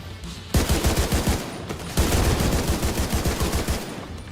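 An automated turret in The Division 2 hammers out sustained rapid machine-gun fire in two long, steady bursts, loud and close, with a brief pause between them.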